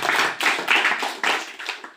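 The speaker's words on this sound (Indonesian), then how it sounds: "Beri tepuk tangan buat Tuhan Yesus." A church congregation at a Friday prayer service claps hands together, a series of sharp, fairly loud bursts with a loose rhythm of roughly five or six pulses, close by with no speech over it.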